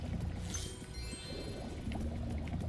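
Gems in Spyro 2: Ripto's Rage (Reignited Trilogy, Idol Springs) drop into water with light splashing, pouring sounds and bright tinkling chimes, a short busy burst of game effects.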